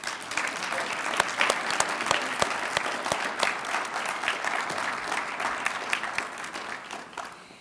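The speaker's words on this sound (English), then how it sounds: "Let's give one final big round of applause for all the recipients of the 2019 Iowa Nonprofit Awards." A large audience at the 2019 Iowa Nonprofit Awards ceremony gives sustained applause for the award recipients, a dense, steady roar of clapping with no speech over it.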